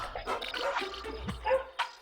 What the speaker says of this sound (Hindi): ये कुत्ते भी सोते नहीं क्या?